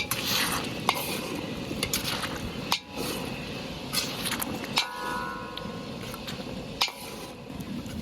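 Potato curry being stirred in a pan with water just added, no garlic or onion, a continuous scraping and bubbling sizzle with occasional sharp knocks of the spoon against the pan.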